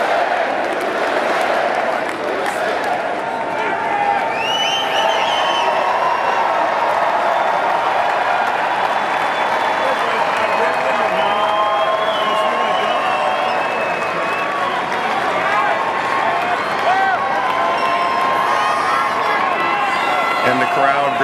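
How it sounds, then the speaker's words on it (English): A large arena crowd at a presidential executive order signing at Capitol One Arena chants in unison, a sustained, loud wash of massed voices with shouts and scattered cheers running steadily throughout. "What are they chanting? Oh, USA, USA."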